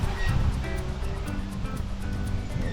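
Steady outdoor wind rushes over open ground on a breezy day of flying a homemade kite, a continuous broadband roar with gusty buffeting against the microphone and no talk.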